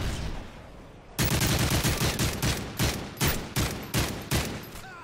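Bursts of rapid video game gunfire in a match, a volley of sharp shots beginning abruptly after a quiet second and continuing in a quick uneven rhythm, loud and close.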